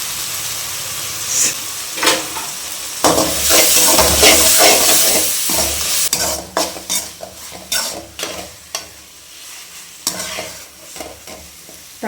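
Three sliced tomatoes fry with a little turmeric in a pan for dry fish thokku, sizzling loudly and steadily up close while a spoon stirs and scrapes in irregular strokes.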